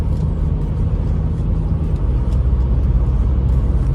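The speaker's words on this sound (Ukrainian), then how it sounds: "Автомобіль їде приємно." Steady low rumble of road noise fills the cabin of a 2014 BMW 520d xDrive while driving, constant and unbroken with faint whooshes of wind.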